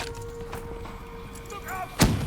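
Grenade blast in Call of Duty: Black Ops 3 combat, a sudden loud explosive boom near the end following steady background battle noise and faint radio-like chatter.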